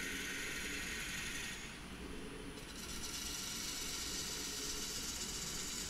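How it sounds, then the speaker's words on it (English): A carbide-tipped diamond tool cuts decorative grooves into the base of a wooden serving tray turning on a lathe, giving a steady, faint scraping hum with a brief dip partway through. "It's my Easy Wood carbide tip diamond tool, and I'm just using that to form some decorative grooves on the base."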